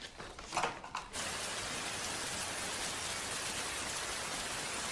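Steady, even rain falls outdoors as a dense hiss that starts abruptly after a second of scattered drops and then continues unbroken, with no voices.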